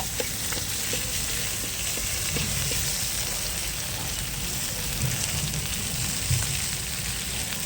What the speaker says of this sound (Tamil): இப்படி ஒரு பெரட்டு அப்படி ஒரு பெரட்டுன்னு பெரட்டி போட்டுனே தாங்க இருக்கிறோம்